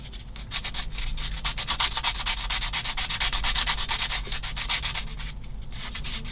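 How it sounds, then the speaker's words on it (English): A sanding stick rubs back and forth on a 1/16 scale plastic model of an M10 IIC Achilles British tank destroyer, giving close, rhythmic scratchy strokes with short pauses between. "We're doing it with a sanding stick."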